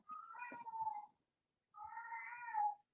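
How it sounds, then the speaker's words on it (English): A female cat gives two long, loud, drawn-out meows, separated by a brief pause, close by in a quiet room. "Yeah, you can hear the cat."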